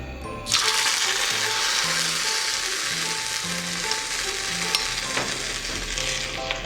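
Hot oil tempering of mustard seeds and chana dal sizzles steadily as it is poured into rava batter for kuzhi paniyaram, a close, continuous frying hiss after a sudden start, with faint stirring and clinks.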